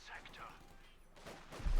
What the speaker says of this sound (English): semi-automatic weaponry